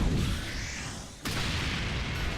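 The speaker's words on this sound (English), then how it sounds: "I use the super that kind of causes an explosion" A super attack explosion in the fighting game BlazBlue, a broad rumbling boom that fades, then a sharp renewed burst at about the midpoint that sustains as a noisy roar to the end.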